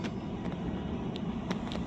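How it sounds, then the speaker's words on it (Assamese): A steady engine rumble and road noise hum along, with occasional faint clicks over the drone. "পাপাই গাড়ী চলাই আছে নন ষ্টপ চলাই আছে"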